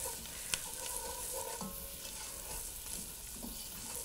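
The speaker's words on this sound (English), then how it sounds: "And just stir that around. Let that cook with the onions." Onions and oregano cooking in a pot as a spoon stirs them, giving a soft, steady sizzle with a few faint scraping clicks, quiet and with no one speaking.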